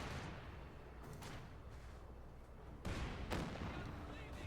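Heavy 88 mm gun rounds boom in the strategy game Company of Heroes 2: two loud, deep blasts land close together near the end, over a constant rumbling battlefield background.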